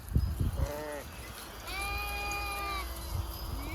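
Sheep bleat repeatedly in a flock at an Indian village farm, several wavering cries overlapping at close to mid range over low rustling and ambient farm noise.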